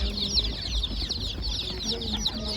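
Chicks at an Ankara poultry market cheep continuously in a dense, high-pitched chorus, with a low rumble of market background underneath.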